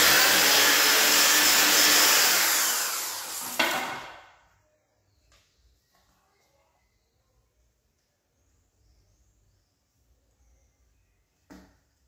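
A drill bores through a wide metal rivet while building a current-driven water wheel, a loud, harsh whir lasting about four seconds before cutting off abruptly, followed by near silence and a faint knock at the end.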